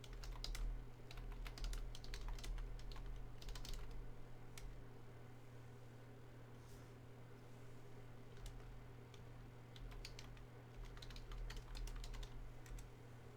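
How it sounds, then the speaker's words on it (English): Steady clicking of typing on a computer keyboard, close and continuous, over a low constant hum with no voices. "just typing in some information here into the live chat"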